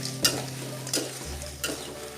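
Food sizzles and crackles steadily in hot oil, with a few sharp scraping stirs at regular intervals. There are no voices.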